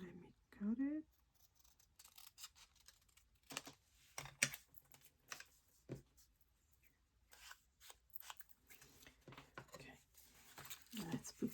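Scissors snip through junk journal paper in a series of short, crisp cuts at uneven spacing, with paper rustling and handling in between and brief talk at moments.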